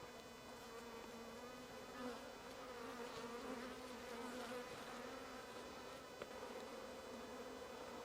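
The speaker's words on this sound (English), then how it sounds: "Lots of nice nurse bees. They'll take care of it." Dense, steady drone of many honeybees buzzing around a hive frame covered with nurse bees during hive equalizing, a close continuous hum at low level with no talking.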